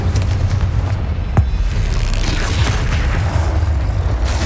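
A Bombarda spell explodes in the Hogwarts Legacy video game, one sharp blast rising out of a steady, dense roar of battle noise that runs loud throughout.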